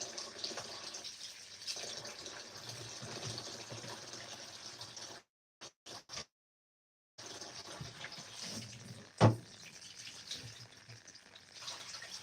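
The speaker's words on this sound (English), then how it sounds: "I'm just washing the rice." Rice being rinsed under running water in a home kitchen while cooking fried rice, a steady broadband rush of flowing water that briefly cuts out, then resumes with one sharp knock partway through.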